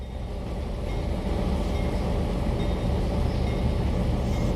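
A maintenance train rolls into a rail yard in the Trainz video game, giving a steady, dense rumble with a low mechanical drone and faint high squeals. The sound stays loud and even throughout, with no talk.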